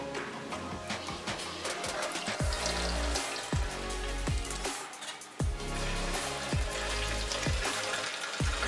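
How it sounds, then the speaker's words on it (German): Tank cleaner mixed with warm water pours and sloshes into a hollow fuel tank with steady splashing and gurgling, broken by periodic low thumps and glugs. "wird der Tankreiniger in den Tank geschüttet und 1 zu 10 mit warmem Wasser gemischt"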